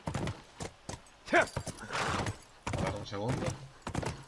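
A horse clip-clops in the video game The Last of Us, its hooves thudding in a brisk, uneven rhythm close by, with a brief whinny and a Spanish-speaking voice talking over the gameplay.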